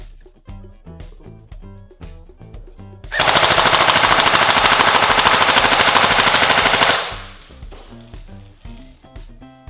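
A Specna Arms SA249 polymer airsoft light machine gun fires 0.2 g BBs on an 11.1 V LiPo battery, letting off one loud, sustained full-auto burst of about four seconds between quieter background sounds, with no talking.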